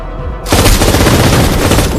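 Enemy soldiers open fire in a sudden loud burst of rapid gunfire that starts abruptly and rattles on continuously without pause.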